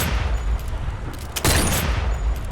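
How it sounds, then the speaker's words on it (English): Gunfire from a scopeless rifle in the virtual reality game Sniper Elite VR: a loud close single shot with a sharp crack and rumbling tail, surrounded by a steady background roar. "The scopeless rifle actually fires dramatically higher up than the iron sight would suggest."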